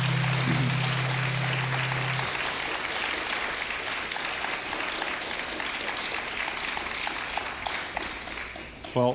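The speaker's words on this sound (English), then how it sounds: "thank you very much for your kind applause" Steady applause from a filk concert audience follows the end of a song, a broad, even clatter of many hands lasting most of the stretch, with a brief held note fading out at the start.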